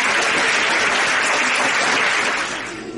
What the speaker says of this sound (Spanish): Un aplauso para nuestro musicólogo.